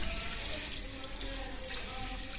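Water pours steadily into a pot of browned mutton for degi mutton korma, a continuous close splashing and gushing rush with no talk over it.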